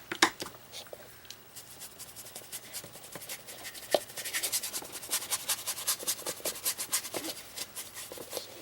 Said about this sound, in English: So you're just taking the wet paint and kind of roughly scrubbing it out.